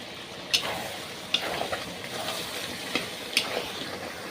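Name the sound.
chicken curry meat frying in the pan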